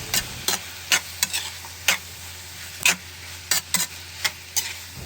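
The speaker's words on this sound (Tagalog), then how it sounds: "Halo-haluin." Chicken arroz caldo stirred in a pot, with about a dozen distinct spoon clacks and scrapes at an uneven rhythm over a soft background sizzle.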